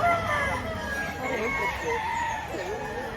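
Chickens cluck and a rooster crows amid steady market bustle at a poultry market in Lipa, Batangas, the bird calls moderately near and mixed with background crowd noise and faint voices.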